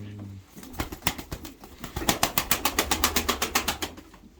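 Rapid rhythmic clapping of wings dominates, with soft coos of fancy pigeons in a coop underneath; close and fairly loud, building into a steady flutter.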